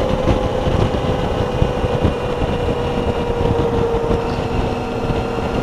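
A motorcycle engine runs steadily while riding on a road trip through Azerbaijan, a constant close drone with a sustained mid-pitched tone and wind rush, with no pauses.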